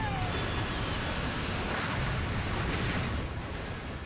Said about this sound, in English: Airbus A300 veers fatally off course.